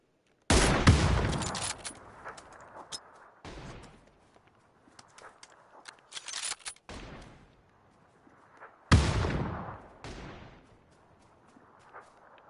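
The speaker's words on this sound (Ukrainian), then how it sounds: "А по кому ти стріляєш?" Gunfire in the video game PUBG comes in several sharp bursts of shots separated by short pauses, loud and close, with quieter crackling and echoes in between and no voices.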